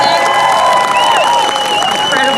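Crowd at a Bans Off Our Bodies rally breaks into applause and cheering, with whistle-like tonal calls and shouts rising over steady clapping, loud and close throughout.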